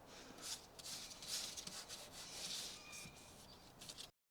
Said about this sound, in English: Just getting a little sand down and then just going to give it a little paint over.